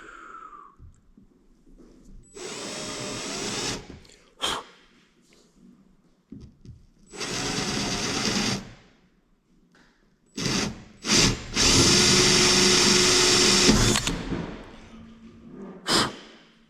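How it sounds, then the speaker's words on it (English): A power drill whirs in several separate bursts a few seconds long, loud and close, with short clicks and quiet gaps between them while work is done on a Kenworth cabover truck. "I need a drill"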